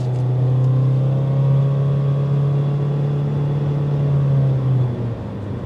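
A 2023 Honda HR-V Sport pulls into traffic, its engine droning steadily with a rising hum over road noise, heard from inside the cabin with no talking.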